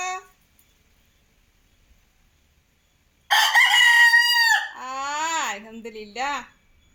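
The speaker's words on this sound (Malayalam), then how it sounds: "അങ്ങനെ കോക്കരക്കോ കൂവിട്ടോ" A rooster in Kerala crows once, loud and close, a long wavering call that rises and then falls, coming after a faint short note and a few seconds of silence.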